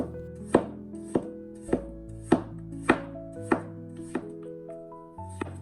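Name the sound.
slicing peeled carrot into thin pieces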